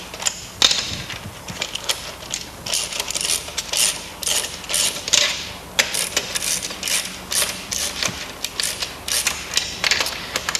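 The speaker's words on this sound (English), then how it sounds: "Now that we've captured the bolts, I'll use the ratcheter." A hand ratchet turns the bolts on a PLP stainless-steel splice closure, giving a steady run of quick metallic clicks in short bursts with brief pauses between strokes, close up and with no talk.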